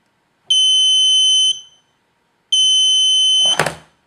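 Two loud electronic buzzer tones from an anti-drowsy-driving alarm, each about one second long and separated by a short pause, with a brief clatter right after the second.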